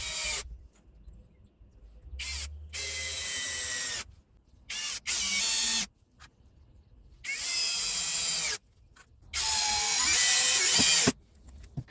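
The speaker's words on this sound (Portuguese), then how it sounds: "A ideia é colocar uma quantidade grande de parafusos aqui para ver se a máquina aguenta" ECOSEN 16V cordless drill driving screws into a wooden rafter, torque set to maximum: several loud whirring bursts of a few seconds each, separated by short pauses and clicks, close and alone without talk.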